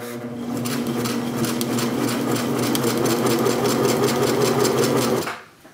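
A home sewing machine runs steadily for about five seconds on a straight stitch after a repair to its hook timing, with a fast even mechanical whir and chatter close by, stopping abruptly at the end.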